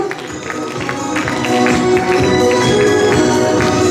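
An audience applauding at a Palestinian culture day event with an art exhibition, a loud burst of clapping from a crowd that swells after the first second and keeps going steadily, close and dense.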